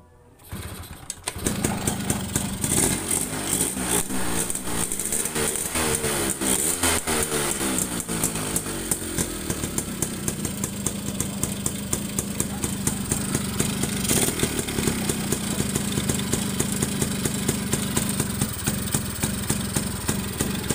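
Yamaha V80 motorcycle engine starts and then runs steadily, a busy, rattling small two-stroke putter that stays loud and continuous with no talking.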